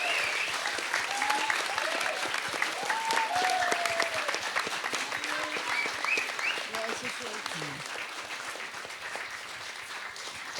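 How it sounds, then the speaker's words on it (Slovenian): Sustained audience applause at a talk about summer holidays, dense rapid clapping throughout with voices calling out over it. "Mislim, da jim lahko kar zaploskamo, ne?"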